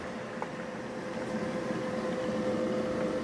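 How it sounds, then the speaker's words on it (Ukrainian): A low, steady rushing hum of an electric kettle heating water, powered by an Anker Solix F2600 charging station, gradually growing slightly louder, with a faint tonal whine underneath. "О, зашумів чайник"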